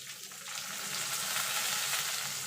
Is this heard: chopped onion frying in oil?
yes